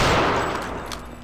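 A German submachine gun from Return to Castle Wolfenstein fires a dense, continuous automatic burst, loud and close, with rapid shots blurring together and no pauses.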